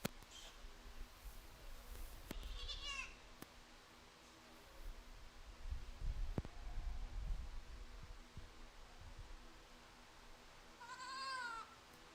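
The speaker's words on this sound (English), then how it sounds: "the young man's single entry of the pygmy goat" A pygmy goat bleats twice at a livestock show, one quavering call early and another near the end, with faint rustling and shuffling from the surroundings in between.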